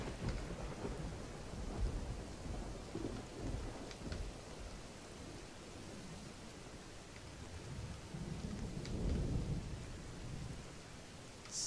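Steady, heavy rain pours down in a forest, with deep rolling thunder rumbling underneath. The downpour is continuous and fairly distant, with a louder swell of thunder near the end.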